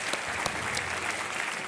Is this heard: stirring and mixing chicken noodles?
no